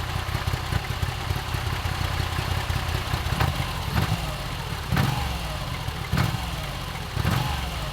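Moto Guzzi V85 TT 850 V-twin running on its stock exhaust, a steady, uneven lumpy thrum with a few small throttle blips, close and fairly loud with no talk.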